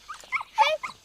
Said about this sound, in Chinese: 小狗儿